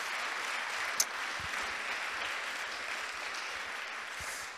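A church congregation at a morning thanksgiving service claps for its deacons, giving a faint, steady wash of applause that holds evenly through the whole stretch, with no speech over it.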